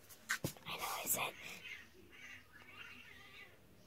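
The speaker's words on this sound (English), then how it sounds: "Cat getting in a fight." Cat fight: a few sharp, loud yowls and screeches near the start, then quieter scuffling noises fading into low background hiss.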